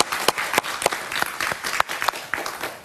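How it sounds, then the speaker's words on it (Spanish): A television studio audience claps for guest Mariam Habach during a talk show interview: a lively round of applause with several sharp, prominent nearby claps standing out over the dense crowd clapping. "Un aplauso para Marianne, por favor."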